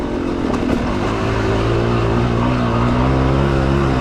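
A Yamaha YZ250 two-stroke dirt bike engine held in first gear on a motorsports park trail gives a loud, close, steady drone with slowly shifting pitch. It continues unbroken throughout, with no voices.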